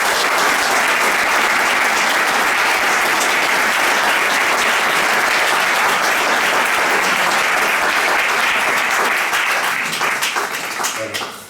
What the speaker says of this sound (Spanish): le cedo la palabra con un fuerte aplauso